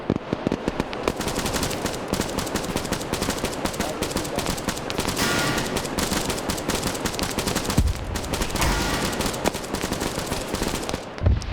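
Weapons fire pouring into a compound in a military video game, anti-tank rounds among it: a continuous, dense rattle of rapid shots with occasional heavier thumps, steady and fairly loud throughout.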